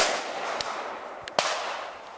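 Carbine gunfire during a shooting drill: a few sharp, distant-sounding cracks spaced irregularly over a steady hiss of background noise.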